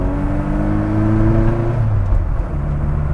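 A Mini Cooper engine pulls uphill in second gear, a loud, close steady drone whose pitch climbs and then eases off as the gear holds, with road and wind noise underneath.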